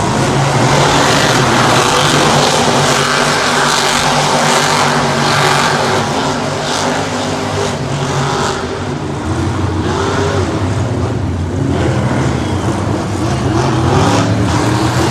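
Monster trucks spinning donuts on the arena track at the Monster Jam World Finals, a loud continuous engine roar with rising and falling revs over a constant crowd-filled din, no voices standing out.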